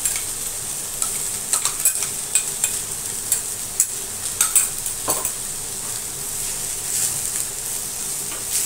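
Val beans being stir-fried with ground masala paste in a pan, a steady sizzle under repeated scraping and clinking of a spoon against the metal, moderately close with no talking.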